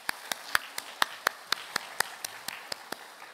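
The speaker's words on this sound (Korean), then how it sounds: "하나님 앞에 다시 한번 영광의 박수 올려드리겠습니다" A church congregation claps together at a discipleship training graduation service, about fourteen sharp, fairly even claps spread over a few seconds, moderately close and with no talking.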